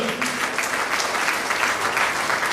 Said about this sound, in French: acclamez très fort devant le Seigneur